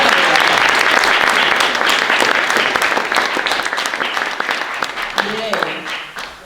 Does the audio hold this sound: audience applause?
yes